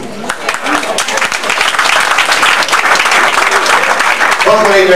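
Applause fills a dance school's closing ball in 1994 as results are read. Dense, steady clapping rises and holds loud throughout, and a voice speaks over it near the end.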